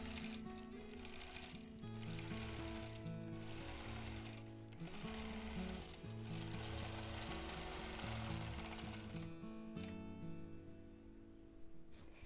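A longarm quilting machine stitches a freehand edge-to-edge design across a quilt, its steady motor hum and rapid needle chatter running loud and continuous throughout, with brief pauses and speed changes as it moves.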